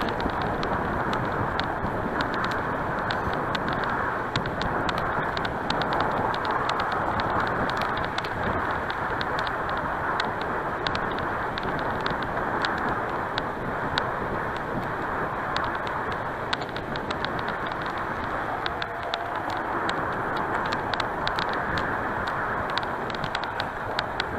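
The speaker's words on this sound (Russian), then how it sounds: "О, сейчас уже навстречу получается ветер. Чуть подувает уже." Steady wind rushes and buffets continuously against the microphone of a moving rider, a broad roaring noise with no pauses or voices.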